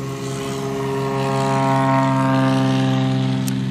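A Cessna 206 single-engine propeller plane strains through a takeoff run during mountain STOL practice, its loud, steady droning engine building slightly in power across a few seconds with no talking.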